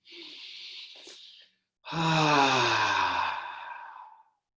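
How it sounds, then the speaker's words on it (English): A single deep breath during a yoga session: a short soft inhale, a pause, then a long loud airy exhale through the mouth that fades out, close to the microphone. "Take a nice big inhale through your nose and exhale out your mouth."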